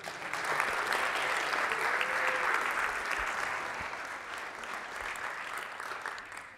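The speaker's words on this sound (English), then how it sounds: "you don't get as big a round of applause" Steady round of audience applause at a music production masterclass, dense clapping holding at an even level throughout with no talk over it, easing slightly toward the end.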